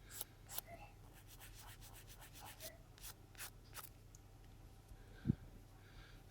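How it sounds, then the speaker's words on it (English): Soft, light strokes of a sanding stick on a 1/35 scale plastic tank model repeat in a steady rhythm, close and quiet, with one brief knock near the end. "Use the sanding stick itself to do the work."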